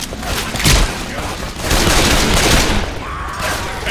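Dense gunfire from the video game Left 4 Dead 2 in a loud, continuous fusillade of overlapping shots and booms, with bursts swelling and easing over a few seconds.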